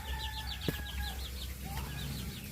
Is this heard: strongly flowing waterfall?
no